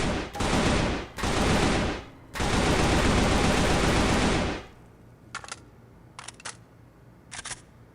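A gun in a Left 4 Dead 2 mod fires in three loud sustained automatic bursts, each a dense roar of rapid shots, followed by quieter clicks and short mechanical clacks.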